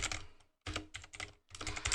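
A computer keyboard typed on at close range in short bursts of rapid clicking, broken by brief pauses.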